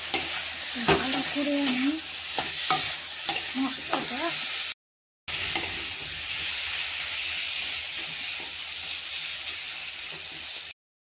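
Potatoes and onions with spice paste sizzle in a frying pan, with a steady hiss and a run of sharp spoon-scraping stirs near the start, a brief gap, then continued frying. A voice speaks briefly early on.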